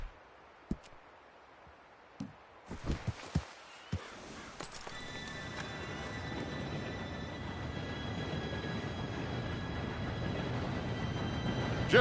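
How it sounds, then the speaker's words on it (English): A train rolls in, starting with scattered knocks and clanks before a steady, rising rumble with a sustained high squeal of brakes or wheels builds and holds loud to the end. "Train should be here any minute now."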